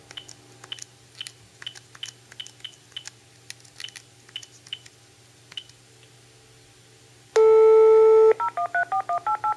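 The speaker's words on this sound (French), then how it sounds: "Il compose à nouveau le numéro du serveur." A telephone number is dialed: soft key clicks, then a steady dial tone, then a quick run of about eight DTMF tones.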